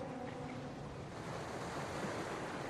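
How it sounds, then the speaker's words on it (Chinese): Sea waves below a mountain cliff roll and wash in a steady, broad surf roar, mixed with wind, continuous and moderately distant, with no voices. "脚下是大海"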